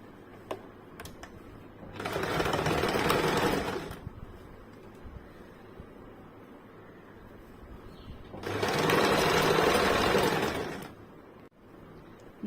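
A sewing machine stitching the lining of a blouse, running in two loud bursts of about two seconds each, separated by quieter pauses with faint handling sounds.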